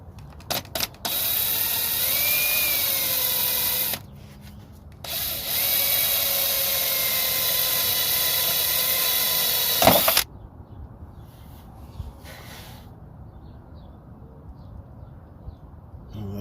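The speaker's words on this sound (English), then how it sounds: "I'm gonna drill that small hole right here." A power drill bores a small hole into a Toyota Prius, whining steadily in two long close bursts with a short pause between, then going quiet apart from faint rustles and handling noises.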